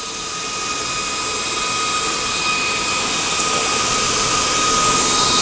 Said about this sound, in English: with us just keeping the fan on, that cools down the temperature, keeping the compressor nice and cool